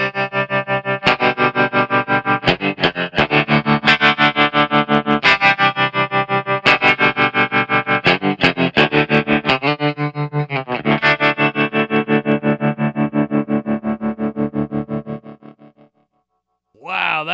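Electric guitar played through the opto tremolo setting of a True Spring Reverb pedal, twangy chords pulsing in a steady choppy rhythm for about fifteen seconds before fading, then a brief new strum at the end.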